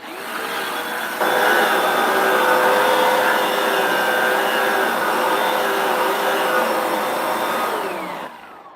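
A Hoover Power Dash pet carpet cleaner runs steadily and loud for about eight seconds, rising a notch in pitch and volume after a second before cutting off near the end, with no suction reported.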